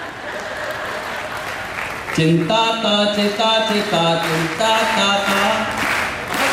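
A comedy poetry show audience claps in a broad burst that opens the moment, then stays underneath as a performer breaks into a loud, rhythmic sung chant.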